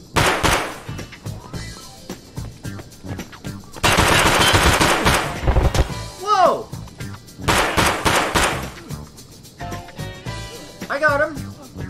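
Automatic weapon fire in a shooter video game set in an abandoned warehouse, rapid bursts of shots in several clusters, loud and close, with a voice talking between and over the volleys.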